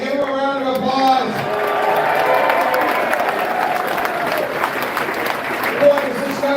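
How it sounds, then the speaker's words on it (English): A crowd at a political rally in St. Catharines applauds and cheers in a sustained, loud wash of clapping, with voices calling out and a speaker's voice heard over the noise. "Give him a round of applause."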